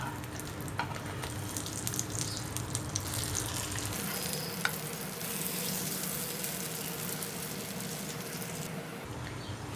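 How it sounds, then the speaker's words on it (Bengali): Eggplant slices for begun bhaja fry in a pan over low heat, the second side browning with a soft, even sizzle that stays constant throughout, with no talking. "এখন আমি তাইলে অপর পিঠটা ভেজে নিচ্ছি"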